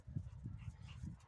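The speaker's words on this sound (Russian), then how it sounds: "Он лает сильно, с таким криком." A small dog yelps and whimpers in short, whiny bursts, about three or four close, fairly loud cries with no talk.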